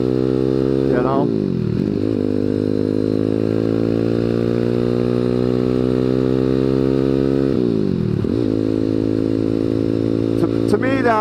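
A Honda Grom motorcycle rides steadily with a loud, close engine drone, rising and falling as it shifts gears twice, with wind rush throughout.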